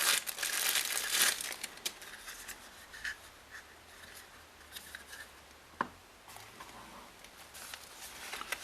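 Packing paper crinkles and rustles while a Sony HVL-F60M flash is unboxed, close and fairly quiet. A dense burst of crumpling at the start gives way to scattered softer handling sounds and a few sharp crackles.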